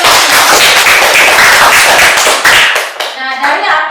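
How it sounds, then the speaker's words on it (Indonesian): A room full of people clapping together in a dense burst of applause, which fades as a voice starts talking near the end. "tepuk tangan buat teman-teman"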